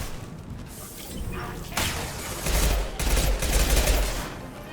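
Pistol gunfire in the Mass Effect 2 video game, with rapid repeated shots and bursts over a dense, noisy combat background that grows louder partway through.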